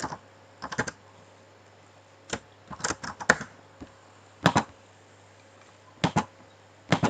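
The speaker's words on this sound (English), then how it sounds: "So we shall type there student name." Computer keyboard keys typed in short irregular bursts of clicks with pauses between, close and fairly quiet, while entering a student name into a PHP and MySQL database program.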